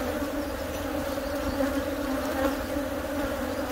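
Honeybees swarm around an open hive full of emerging brood during a canola-season colony split, a dense steady drone held at even loudness throughout.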